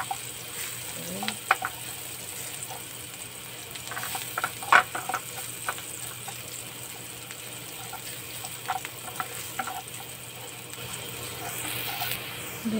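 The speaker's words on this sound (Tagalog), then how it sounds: "kaya igisa ko na ang mga pampalasa niya" Spices for chicken sauté in a pan, giving a soft continuous sizzle with scattered clinks and stirring scrapes, close and moderately quiet.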